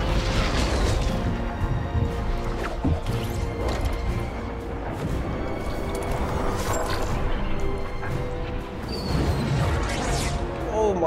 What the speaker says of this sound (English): Oh, there's more than one rocket flying around.